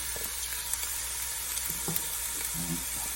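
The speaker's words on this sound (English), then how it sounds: "a little bit of a sizzle" Onions sizzle softly in a pan for a Manhattan-style seafood chowder, a steady hiss with a few faint clicks and small pops.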